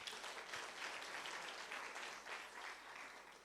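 An audience at an award ceremony for a physiology quiz and workshop in Kigali applauds steadily, the clapping softly swelling and fading over a few seconds at moderate distance.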